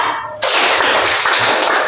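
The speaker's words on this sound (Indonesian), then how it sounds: "Coba tepuk 3." A classroom of pupils claps together in a rhythmic counting game during a school lesson. The dense, loud clapping starts abruptly after a short quiet moment and carries on steadily to the end.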